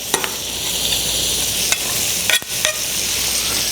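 Garlic sizzling in melted butter in a pan on the stove, a loud, even hiss up close with a few spoon scrapes and clinks against the pan.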